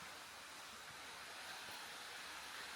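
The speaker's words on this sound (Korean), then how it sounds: "폭포가 정말 장관이다. 폭포 한번 보여드릴게요, 저기." Broadband rushing roar of a waterfall in a garden of a house in the Jura region of Switzerland, a steady dense wash of falling water heard close and continuous without breaks.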